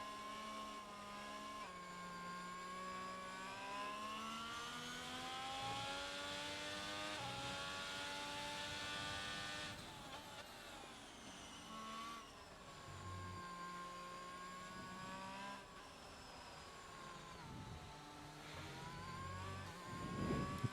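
A Formula 1 race car in the F1 2022 video game on a flying lap at the French round, its high engine note climbing and dropping through gear changes as the car accelerates and brakes, loud and continuous for the whole stretch with no talk.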